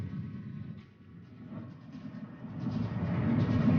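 A train in motion rumbles along, a low, steady rolling drone with faint rattles of the carriage that swells slightly louder toward the end, heard alone without voices.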